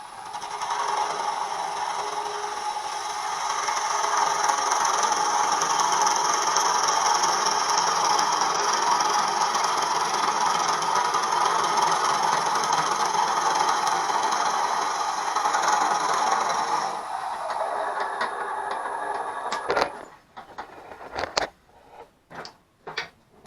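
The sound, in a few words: wood lathe spinning at about 500 RPM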